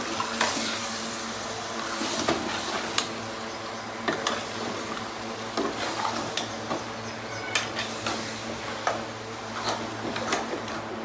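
Mutton curry is stirred in oil in a pot, a spoon scraping and clinking at irregular intervals over a steady background sizzle that lasts throughout.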